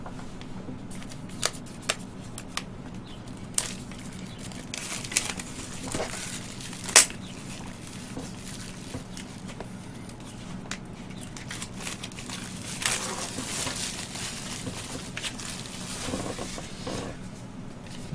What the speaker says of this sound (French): on va passer tout de suite au déballage